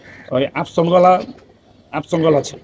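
Pigeons coo in two close, loud bursts of rolling calls, separated by a short pause.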